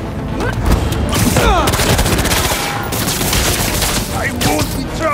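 Rapid gunfire in the Ultimate Spider-Man 2 video game, loud sustained bursts with booming impacts over game music and effects, and voices calling out.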